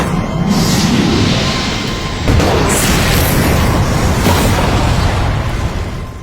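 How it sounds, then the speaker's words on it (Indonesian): A loud, sustained roaring blast with deep rumble and crackling debris, continuous for several seconds with a second surge midway. "ledakan besar terjadi."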